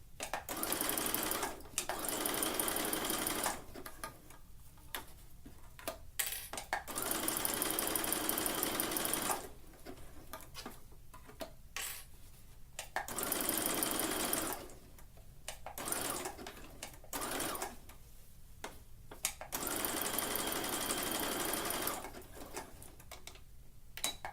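A domestic sewing machine stitches a tankini seam in several short bursts of rapid ticking whir, separated by quiet pauses as the fabric is adjusted, close and fairly soft.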